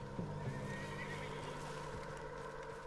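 A horse in the video game Red Dead Redemption 2 whinnies over a steady background hum, with a faint clop of hooves mixed in.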